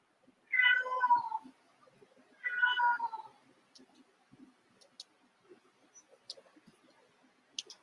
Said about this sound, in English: I wonder what's wrong with my cat.